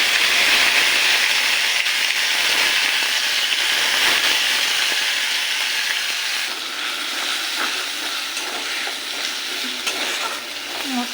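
Ginger, tomato and green chili paste frying in hot oil with cardamom and cumin, a loud steady sizzle with stirring scrapes that eases slightly partway through.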